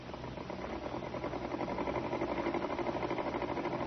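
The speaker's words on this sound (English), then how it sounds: "Miss Winthrop, you heard the sewing machine just now." A sewing machine sound effect for a live radio murder drama runs continuously, a fast, even mechanical rattle and whir that swells slightly and stays steady throughout, with no talk.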